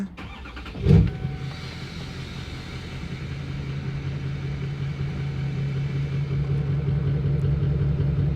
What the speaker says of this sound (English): We can start the truck